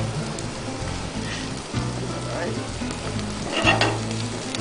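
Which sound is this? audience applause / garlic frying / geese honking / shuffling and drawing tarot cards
garlic frying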